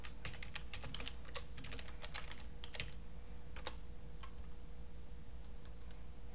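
Rapid clicking of keys on a computer keyboard as a script name is typed, quiet and close, with a burst of keystrokes then sparser taps.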